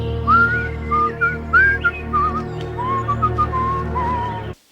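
A person whistles a wandering melodic tune in a film scene, steady and fairly close, over a low sustained musical drone, ending abruptly.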